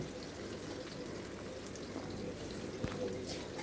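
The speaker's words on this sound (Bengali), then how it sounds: "প্রায় 10 মিনিট মতো পেঁয়াজটাকে আমি একটু হালকা লাল হওয়া পর্যন্ত ভেজে নেব।" Onions frying in a pan make a soft, continuous sizzle with faint crackles, fairly quiet and steady, with no talking.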